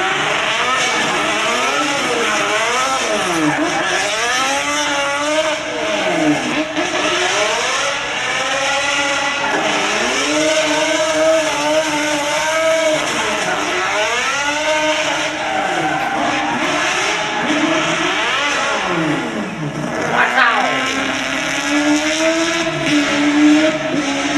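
A four-rotor rotary engine in a Toyota Supra revs hard again and again, its loud, buzzing pitch sweeping up and down in repeated waves for over twenty seconds, close by and alone.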